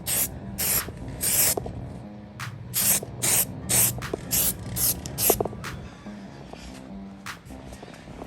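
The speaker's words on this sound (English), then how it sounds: "I'm just gonna spray this one" Repeated short bursts of a trigger spray bottle applying car trim dressing, about a dozen quick hissing squirts in uneven rhythm, close by, with faint handling noise between.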